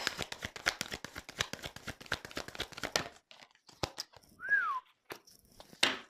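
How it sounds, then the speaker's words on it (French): After a stretch of brisk card shuffling and slapping at a tarot reading, a person whistles one short gliding note, rising then falling, close and soft. "Je siffle et tout, quoi."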